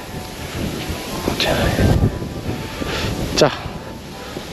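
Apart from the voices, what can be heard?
wind blowing outdoors into the microphone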